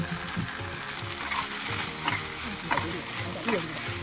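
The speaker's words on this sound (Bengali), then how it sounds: "আবারও কিছু সময়ের জন্য ভালোভাবে কষিয়ে নেব" Ground spices and chopped tomatoes sizzle in a pan for an egg curry, a steady close frying hiss broken by a few scraping stirs, with no talking.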